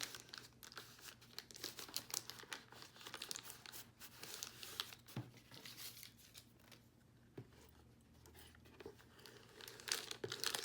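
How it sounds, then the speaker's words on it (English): Paper crinkles and rustles close by as sheets are smoothed out by hand on a surface for an assemblage art piece, in soft irregular bursts with a few sharper crackles. "Smooth my paper out."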